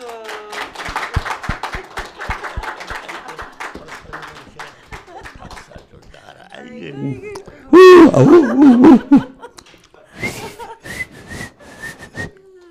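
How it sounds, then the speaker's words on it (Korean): Brisk, evenly spaced hand claps ring out close by for about three seconds, then fade. Later come loud whistled notes and a few scattered taps, with people talking. "박수."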